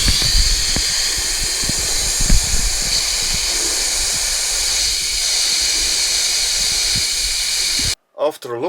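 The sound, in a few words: air hissing out of car tires on beach sand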